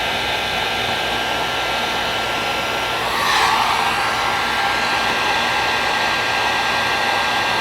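A heat gun blows steadily while it shrinks heat shrink tubing onto a soldered wire, making a loud continuous whooshing hiss that swells slightly as the nozzle moves. No one speaks.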